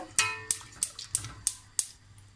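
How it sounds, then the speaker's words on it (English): A whisk beats cream into caramel sauce in a pan, six evenly spaced sharp metallic taps and wet swishes sounding close and steady without speech. "And I'll carry on whisking"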